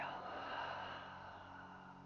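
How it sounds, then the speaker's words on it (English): A single long, breathy exhale at the end of a yoga breathing exercise, a close, airy rush that slowly fades. "Exhale, empty out your lungs."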